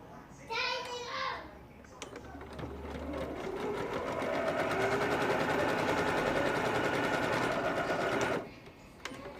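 A sewing machine stitching a quarter-inch seam runs in a steady, close buzzing whir for several seconds, with brief talk before it starts and a short pause before it stops.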